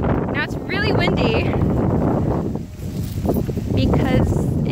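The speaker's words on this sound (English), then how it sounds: "But now it's really windy" Gusty outdoor wind buffets the microphone with broad rumbling noise on the first day of winter, while a person talks over it.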